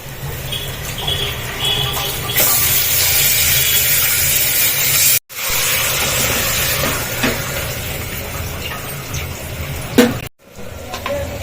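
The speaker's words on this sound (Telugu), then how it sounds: "ఉల్లిపాయలు చూడండి మంచిగా వేగినాయి" Sliced onions fry in a hot pan in a home kitchen, giving a steady broad hiss that runs throughout, with two brief cuts of silence and a faint clink near the end.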